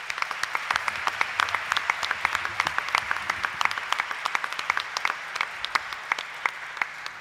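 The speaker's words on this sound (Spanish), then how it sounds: "Les saludamos y los recibimos con un cálido aplauso" An audience at a national student debate final welcomes the contestants with warm applause, a sustained crowd clapping with distinct sharp individual claps standing out near the listener over several seconds.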